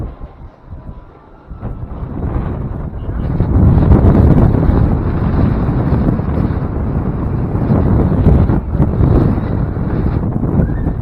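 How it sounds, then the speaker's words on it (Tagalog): Strong cold wind buffets the microphone in an open hilltop setting, a steady heavy roar with gusty swells lasting several seconds, loud and close, with no talk over it. "Ang lamig ng hangin."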